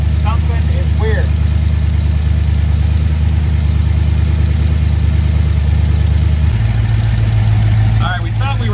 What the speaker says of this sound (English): my idle should not be that high